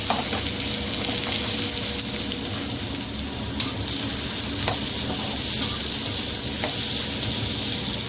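Onion, ginger and garlic fry in a pan until browned, giving a loud, dense, unbroken sizzle that stays close and steady throughout, with occasional light stirring clicks and no speech.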